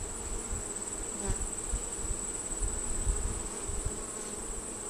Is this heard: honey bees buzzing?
yes